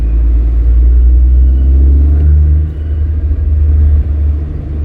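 Low, heavy rumble of a car moving along with its windows open, buffeting wind noise loud and continuous, easing slightly after a couple of seconds.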